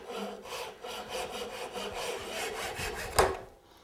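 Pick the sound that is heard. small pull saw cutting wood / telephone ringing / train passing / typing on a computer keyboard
small pull saw cutting wood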